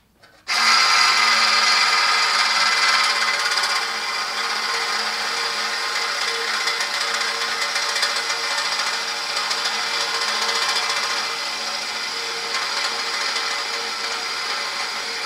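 A hole saw on a power drill cuts into a VW T5 strut hub, a sustained high-pitched whine that starts abruptly, stays loud and steady, then eases slightly as the cut continues.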